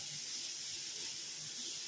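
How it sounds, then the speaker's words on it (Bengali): Potatoes and onions fry in a pan with a faint, even hiss that holds steady without breaks for the whole short stretch. "এই যে আলু পেঁয়াজ ভাজা হচ্ছে"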